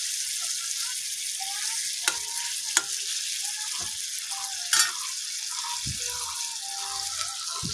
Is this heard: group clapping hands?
no